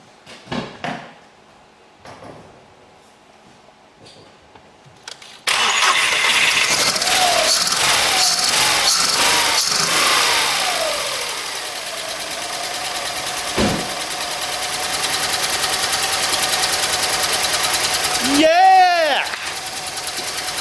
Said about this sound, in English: So I'm going to press the accelerator now and turn the engine.